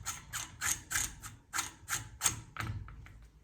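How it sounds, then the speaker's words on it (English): Repeated metallic ratcheting clicks from tightening a castle nut onto an AR-15 buffer tube, arriving in quick irregular bursts of close, crisp clatter with short pauses between them and no talking. "Now you can use the end plate to push the spring down as you tighten the castle"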